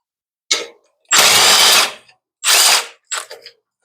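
Ratcheting wrench loosening a 7/16 screw to take the muffler off an MTD tiller, heard as four separate bursts of clicking and grinding, two long and two short, close up with no talk.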